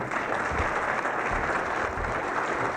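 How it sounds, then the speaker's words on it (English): Audience applause at a Treaty 4 education conference, a steady, dense wash of clapping from a crowd that fills the whole stretch without pause. "Can a round of applause for this man, please?"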